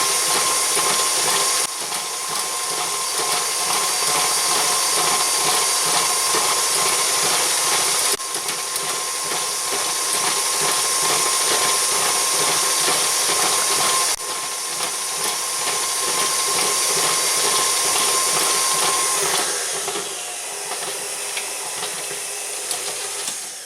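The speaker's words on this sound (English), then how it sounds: "Now let's cream this butter." An electric mixer creams room-temperature butter for a carrot cake, whirring in a steady, loud, hissing drone that shifts in character a few times before fading near the end.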